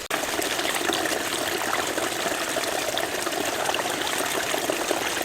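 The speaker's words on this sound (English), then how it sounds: "And then this water is flowing" Rainwater rushes downhill in a small roadside stream beside a gravel road, a loud, continuous, close-up flowing wash.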